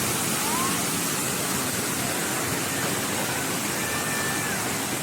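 Water rushes from a fountain in Hong Kong Park as a steady, broadband hiss that fills the whole stretch evenly, with faint bird chirps above it.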